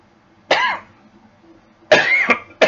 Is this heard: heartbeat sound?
no